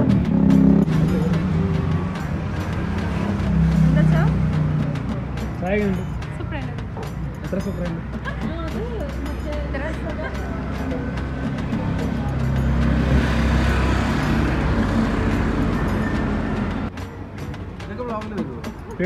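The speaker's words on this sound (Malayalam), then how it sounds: "വണ്ടി സൗണ്ട് കാണിക്കാം" Road traffic and vehicle engines drone continuously on a street in Kerala, with cars passing and rumbling nearby while people talk over the steady noise throughout.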